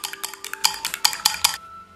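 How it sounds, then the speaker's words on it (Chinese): Five eggs are beaten briskly in a bowl, a fast run of close, bright ticking clinks from the utensil striking the sides, stopping abruptly after about a second and a half. "把鸡蛋搅散。"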